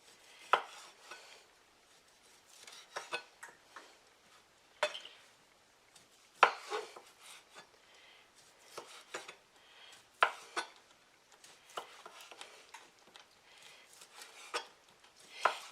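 A knife slicing Christmas sausage into half-inch pieces on a board, quiet repeated taps and knocks at an uneven pace, close and clean with no talking.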